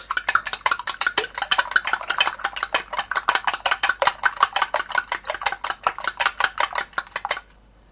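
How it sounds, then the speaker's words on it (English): An egg is whisked in a bowl for egg wash: rapid, even clinking strokes against the bowl for about seven seconds, close and clear, stopping abruptly at the end. "And I'm going to give this a whisk, and this is going to be our egg wash."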